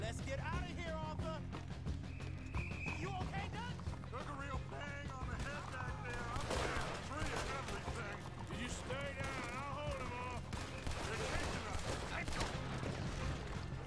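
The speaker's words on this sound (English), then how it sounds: "A lot of slow-mo shots as we leave this town" Slow-motion gunfire from shots fired while leaving a town in Red Dead Redemption 2, dense overlapping bangs over game music and effects, with talk running through much of the clip.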